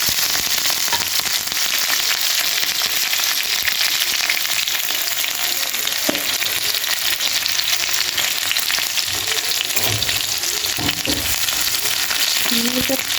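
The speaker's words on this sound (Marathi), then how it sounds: "चांगलं तापून गेलं तर आपण टाकू त्याच्यात मिरची।" Green chillies sizzle in a little hot oil in a pan for sabudana khichdi, giving a steady loud frying hiss with scattered pops and crackles throughout.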